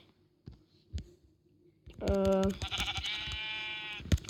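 Sheep bleating in Minecraft on a pocket-edition world, a loud drawn-out bleat following a few soft clicks, then a wavering second bleat under a voice talking, with a thump at the end.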